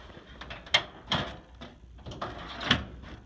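A supply drawer of needles and syringes is opened, giving a few short clattering knocks and slides at close range, with faint background noise.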